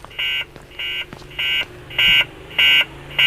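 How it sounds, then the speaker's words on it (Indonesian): In a night-shift hospital horror video game, an alarm buzzer sounds six loud, even electronic pulses in a steady on-off rhythm, each about a quarter second long, with no one speaking. "Alarm gue berbunyi dong."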